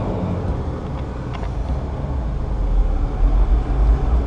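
A lifted 2003 Jeep Wrangler drives along with a steady, loud engine and road rumble, building slightly louder toward the end, with no voices.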